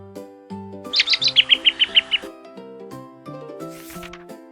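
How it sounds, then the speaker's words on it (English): A quick run of about ten bright bird chirps rises over a light melodic backing, evenly spaced and fairly close, then fades as the music carries on. "Birds chirp."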